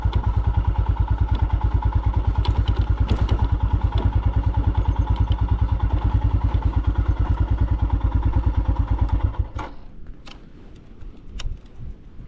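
A Royal Enfield Himalayan 411 motorcycle thumps along at a steady, close single-cylinder pulse for about nine seconds, then the engine note drops away, leaving wind and faint outdoor background.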